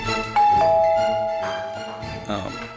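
A doorbell chimes with two clear ringing tones that linger and fade, heard over background music with a soft thump near the end.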